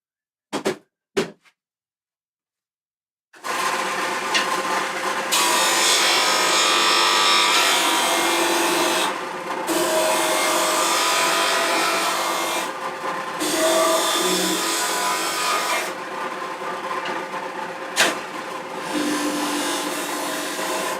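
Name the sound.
power sander sanding a wood offcut for a guitar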